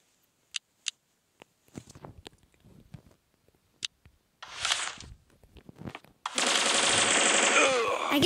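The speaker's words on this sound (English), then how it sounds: "It's my technique to get headshots because I one-shot with this gun." Rapid bursts of gunfire from a gun in a shooting video game, a couple of sharp single shots early, then a sustained loud automatic volley near the end, with scattered clicks and small effects between.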